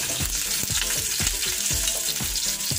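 Onion, garlic and red chili sauté in a pan of oil for sisig, giving a continuous bright sizzle close by, broken by regular scraping stirs of a utensil roughly every half second.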